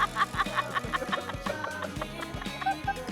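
Chickens cluck steadily in a rapid, busy rhythm, fairly close and loud, with overlapping calls from several birds and no clear talk.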